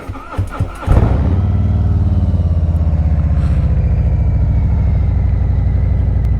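A motorcycle fires up from a cold start on a chilly day at about 34 degrees, with a few uneven sputters before the engine catches and settles into a loud, steady idle right up close.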